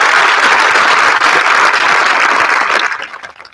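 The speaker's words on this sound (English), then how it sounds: "Round of applause for all of these guys." Audience at a high school graduation ceremony applauding, dense loud clapping that holds steady for about three seconds and then fades away.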